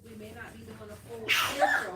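A single sharp sneeze bursts out in a nursing-assistant clinical training room right after a person finishes speaking.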